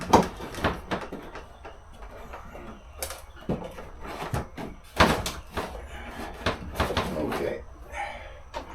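Plastic dog door in a hanging house door being fitted and handled, with irregular knocks, clacks and flap taps near the microphone, mixed with intermittent talking.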